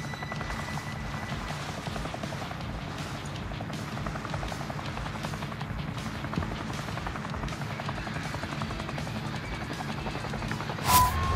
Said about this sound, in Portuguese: Achei um helicóptero.